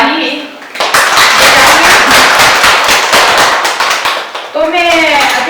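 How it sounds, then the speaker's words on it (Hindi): An audience claps loudly for the winning group at a school Hindi Diwas quiz competition in Leh, a dense burst of applause that swells and fades, with a voice heard at the edges. "के लिए ताली"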